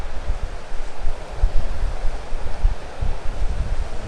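Ocean waves washing onto a beach in Panama, a continuous rushing surf with wind buffeting the microphone, fairly close and steady.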